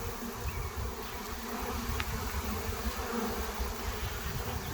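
A swarm of bees buzzing outdoors, a dense continuous hum of many insects at moderate distance, steady throughout with no speech.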